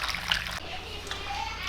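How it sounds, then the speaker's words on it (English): Hot water splashes and pours steadily into a cooking pot close by, with a faint voice in the background. "top that up with some nice hot water."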